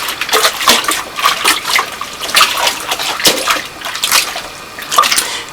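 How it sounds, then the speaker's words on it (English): Clothes plunged and swished in a bathtub of hot water for hand washing, repeated splashing and sloshing bursts in an irregular rhythm, close and loud. "Put it in hot water, you plunge it a little bit, let it soak."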